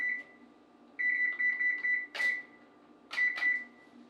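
Electronic oven control panel being set to preheat: a series of sharp, close beeps, some long tones and some short, with soft button clicks between them in a quiet kitchen.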